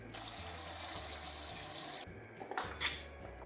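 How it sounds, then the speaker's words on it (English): Two cups of rice being rinsed in water, a soft swishing and trickling close by with a few light clinks of the pot, quiet and with no talk. "Same thing, we add in 2 cups of rice. And we're going to rinse again."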